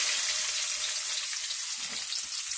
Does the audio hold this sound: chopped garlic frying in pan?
yes